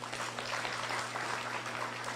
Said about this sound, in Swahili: Mujipigie makofi.